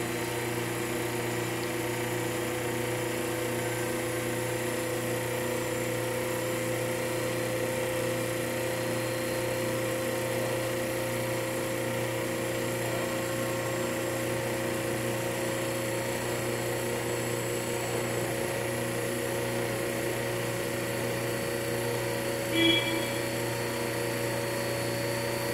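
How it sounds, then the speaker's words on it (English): An Agilent Turbo-V 551 Nav turbo pump runs at maximum speed, giving a constant, even hum with a thin steady whine on top. It stays unchanging throughout, apart from one faint tick near the end. "Okay, the pump is up to maximum speed."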